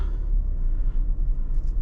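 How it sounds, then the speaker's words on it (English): A Range Rover Velar drives on a London street, heard as a deep, steady cabin rumble. The low road and engine noise holds throughout, with no voices. "let's take this for a little drive and see how this car drives"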